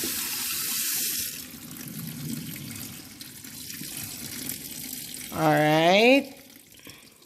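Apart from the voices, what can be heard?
tap water rinsing a turkey at the sink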